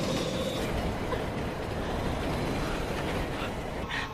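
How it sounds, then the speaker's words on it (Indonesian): A train runs through a scene from the horror film Midnight Meat Train, giving a steady, dense rumble and rattle that holds throughout without pause. "Tapi tidak lama kereta pun berhenti."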